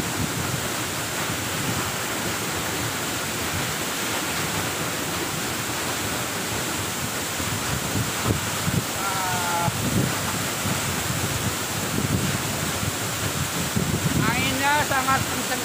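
A strong, rushing waterfall at Curug Teduh roars as a constant, loud broadband wash, with faint bird chirps near the end.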